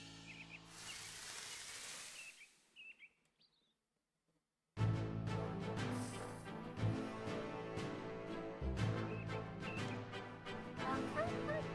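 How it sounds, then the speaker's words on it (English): In the video game RuneScape, a sad dog barks and whimpers in a series of plaintive yips, preceded by faint chirping tones and a brief silence, then continues over game music. "Sad barking."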